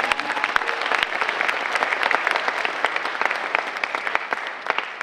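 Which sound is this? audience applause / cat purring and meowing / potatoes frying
audience applause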